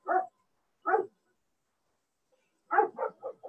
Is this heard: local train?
no